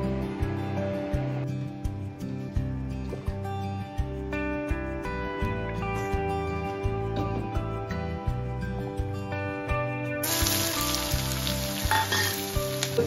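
Chopped carrots frying in a pan for a vegetable Maggi noodle dish, a dense steady sizzle with stirring scrapes, and music playing in the background throughout.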